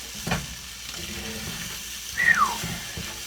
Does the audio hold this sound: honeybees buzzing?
no